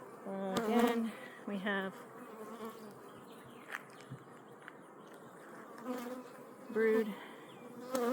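Honeybees buzz steadily around an open hive as a frame is inspected, a soft continuous drone close by, with a person talking intermittently over it.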